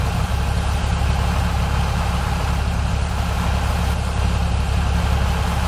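A tractor engine idles in Farming Simulator 2017, a steady, loud, low diesel rumble that runs unchanged for several seconds with no talking.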